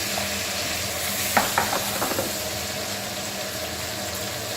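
Diced potatoes hit a hot pan with a few brief clattering taps, then settle into a steady close sizzle that carries on alone without talk.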